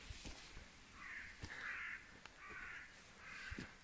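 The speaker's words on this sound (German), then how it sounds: "Überall die Raben hier." Ravens caw in a mossy spruce forest, four hoarse, evenly spaced calls at moderate distance over quiet woodland with a few small clicks and snaps.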